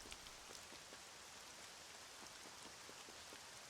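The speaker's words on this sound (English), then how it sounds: "I do like the rain effect." Steady rain falls in the video game Dragon Quest VII Reimagined, an even hiss of drops with faint scattered patters, quiet and continuous with no voices.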